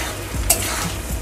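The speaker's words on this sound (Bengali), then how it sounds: "পনিরগুলো ভেজে নিচ্ছি" Paneer cubes fry in oil over a low flame, giving a steady close sizzle with a brief louder crackle burst partway through and soft scraping stirs underneath, no voices.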